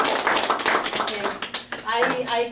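Listeners in a Bible homiletics class give a brief round of clapping for a speaker, a small group's uneven claps mixed with voices talking over them.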